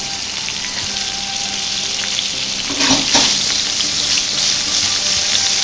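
Butter melting and sizzling in a hot pan for searing. A steady frying hiss swells louder partway through and carries on to the end.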